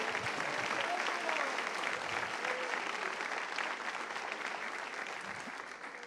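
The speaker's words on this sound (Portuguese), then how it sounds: "Você vai aplaudir, aplauda forte." A church congregation applauds, a dense, sustained wash of many hands clapping that stays even for several seconds and then gradually eases, heard from within the crowd with no clear speech.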